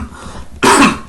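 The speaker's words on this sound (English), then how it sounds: "I'm still battling my cough" A single sharp, loud cough bursts out at close range after a moment of quiet room tone, with no speech.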